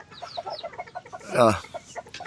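Golden Boy breed chickens cluck in quick, repeated bursts up close, with one louder squawk rising in the middle of the steady clucking.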